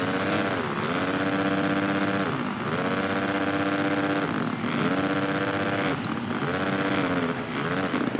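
Honda motocross bike engine in Monster Energy Supercross 3, loud and continuous, revving in repeating cycles that climb, drop briefly with a gear change or throttle lift and climb again, with no talk.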